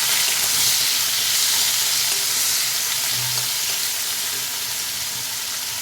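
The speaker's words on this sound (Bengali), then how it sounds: "কেটে রাখা কাঁচা লঙ্কাগুলো দিয়ে দেবো, ভালো করে নাড়িয়ে নেব।" Chopped tomatoes and green chillies sizzle steadily in a frying pan while being stirred for a mixed-vegetable rohu fish curry, a continuous close frying hiss with soft scraping and no voices.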